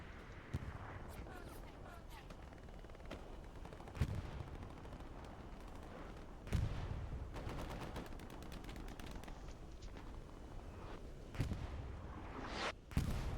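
Gunfire in the World War II shooter Hell Let Loose rattles throughout as distant bursts and single shots, with a few louder cracks standing out over constant battle noise while someone talks quietly.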